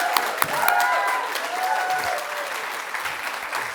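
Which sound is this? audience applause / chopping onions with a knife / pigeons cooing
audience applause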